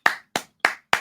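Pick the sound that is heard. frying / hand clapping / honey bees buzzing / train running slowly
hand clapping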